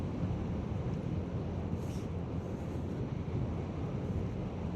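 Wind blowing hard in rainy mountains, a constant low rushing roar with buffeting against the microphone, loud and unbroken throughout with no talk.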